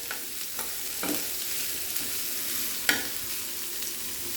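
Gulla brinjal pieces fry in a pan with a steady close sizzle, while a spoon stirs them and scrapes the pan a few times, with no one talking.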